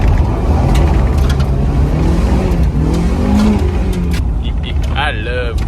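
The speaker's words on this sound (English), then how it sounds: "Do a drift." A Mazda Miata slides across a gravel driveway, its engine revving loudly and close up with a steady mechanical drone. Someone talks over it the whole way.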